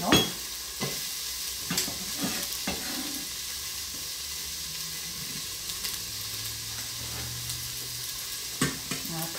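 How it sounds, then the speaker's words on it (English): Onion sautés in a little oil in a pan for spaghetti bolognese, giving a steady, fairly loud sizzle and hiss with occasional scraping and stirring knocks. "So this is just the sauté of the onion"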